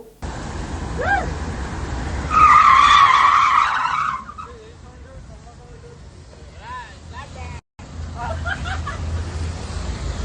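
Cars racing on a city flyover, with a loud tire squeal and skidding burst followed by engine noise and further squealing, heard over crowd babble and people talking.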